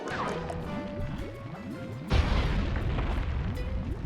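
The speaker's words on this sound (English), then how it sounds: "we need to run with a couple of bombs to destroy the advertisement for Octavio's opera recital" Bombs going off in Sly 3: Honor Among Thieves as an advertisement for Octavio's opera recital is blown apart, a burst of crashing and booming debris that swells into a heavy blast halfway through, with rumbling and clattering continuing after.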